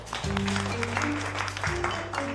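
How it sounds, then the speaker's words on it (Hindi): A classroom of students claps for a classmate in a Hindi-dubbed Korean drama scene, moderate clapping over a low musical drone that shifts pitch partway through. "सभी लोग नैंसी के लिए तालियां बजाएंगे"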